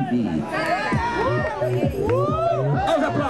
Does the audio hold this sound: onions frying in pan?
no